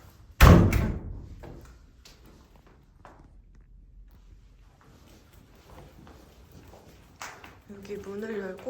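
A door at the entrance of a studio being prepared for a flea market opens with one loud slam-like thud near the start, followed by quieter shuffling and footsteps, with a voice speaking toward the end.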